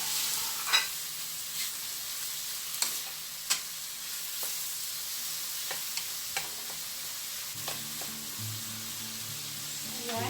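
Octopus is stir-fried in a pan, giving a soft continuous sizzle punctuated by scattered light clicks and utensil taps, with a low steady hum rising near the end.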